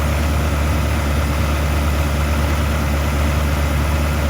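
A Ferrari 360 engine idles steadily while warming up, a constant low rumble with a faint high whine, close and unbroken throughout.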